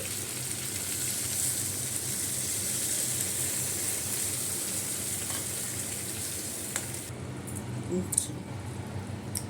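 Fish frying in a pan after a little water is added, a loud, steady hiss and crackle filling the whole stretch, with a few clinks and a short burst of noise near the end.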